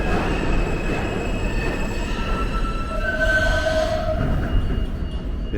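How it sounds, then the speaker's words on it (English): A New York subway train at the 42nd Street–Bryant Park station rumbles and screeches along the rails, its wheels squealing with sustained high-pitched tones, loud and close, with no talking over it. "This isn't the train we want."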